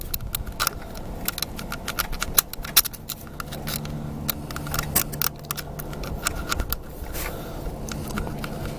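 An ignition file scrapes across breaker points on a 1966 Dodge A100 van, a rapid series of sharp, dry metallic clicks and rasps, close and fairly quiet, with a low background hum.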